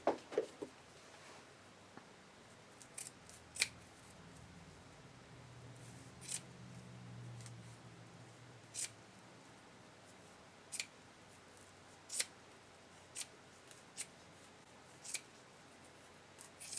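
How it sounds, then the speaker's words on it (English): Scissors snip fabric on a lace shrug while trimming close to a stitching line, giving a dozen or so sharp, separate cuts spaced irregularly over quiet background. "we just need to trim this back as close as we can to our stitching line"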